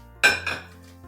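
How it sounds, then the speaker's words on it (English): White ceramic salad bowls are set down on a Valentine's Day table setting, giving a sharp clinking knock followed by a lighter second clink and a faint settling tap. "Then I'll place our white salad bowls on top of that."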